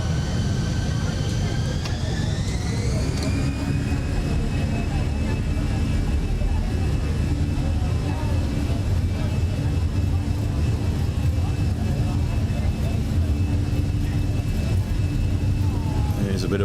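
Jet engines of a Fenix A320 airliner in Microsoft Flight Simulator 2020 spool up, a whine rising in pitch early and then holding steady over a broad rumbling roar that continues throughout.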